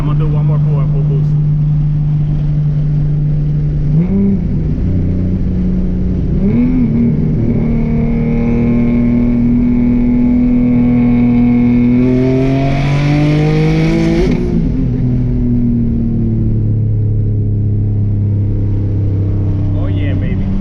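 A turbocharged Nissan 370Z roars through a full-boost pull on a dyno, its loud, sustained engine note climbing steadily in pitch before easing off near the end.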